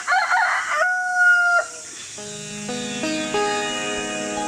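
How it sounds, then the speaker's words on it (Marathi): A rooster crows loudly nearby, followed by a hen's drawn-out clucking calls, alone without talk. "बाकीची कोंबडी आपली इथे बसले आहेत"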